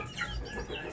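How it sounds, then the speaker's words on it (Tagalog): A young chick being treated for spraddle legs clucks and peeps softly and continuously at close range, a faint, steady chatter with no talking. "Ito yung ginamit natin pang align nung dalawang binti nung sisiw."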